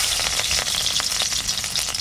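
Garlic fries in hot oil with a loud, continuous crackling sizzle, close up, with faint stirring and no talk.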